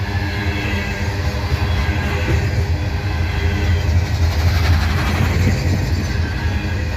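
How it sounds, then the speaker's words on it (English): Freight train rolling past at Abbeville behind three head-end engines, its worn wheels grinding and rumbling steadily and loudly close by with continuous clatter, no voices. "Well, that's the noisy wheels on that one."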